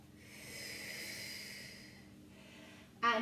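A soft, breathy exhale during a Pilates stretch as the body drops back, a long airy breath out followed by a brief sharper sniff at the end.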